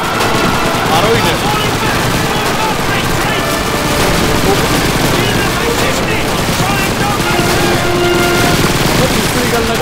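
Dense, loud gunfire from a Soviet war video game, rapid overlapping shots and bursts forming a continuous barrage, with shouted voices mixed in.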